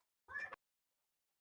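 A house cat gives one clear, fairly close meow of about a quarter second, with the start of a second call cut off at the end, in an otherwise quiet room.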